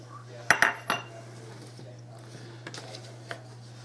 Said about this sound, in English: Gonna give it a stir here.